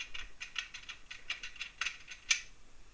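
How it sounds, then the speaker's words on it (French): Small metal clicks and ratcheting ticks from unscrewing the inner trim plate of a Laperche Tienfor lock cylinder, a quiet irregular series of light taps with one sharper click near the end. "On dévisse."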